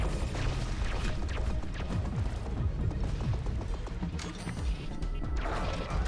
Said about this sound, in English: Spiders have such a huge explosion radius.